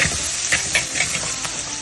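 Sliced onions frying with salt in a pan for a vegetarian curry give a steady close sizzling hiss, broken by a handful of brief scraping accents as they are stirred.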